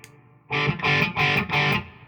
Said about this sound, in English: you get a more of that solid state kind of distortion.